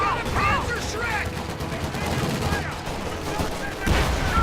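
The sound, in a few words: gunfire in video game Company of Heroes 2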